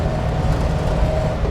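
Steady, loud engine and road drone from a 1956 Chevrolet Bel Air underway, with a low rumble and a faint tonal whine running through a third-gear shift; no distinct clunk or rev change stands out.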